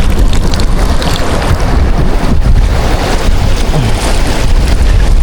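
Strong wind buffets the microphone in a constant loud roar, with gusty rumbling throughout and no voices.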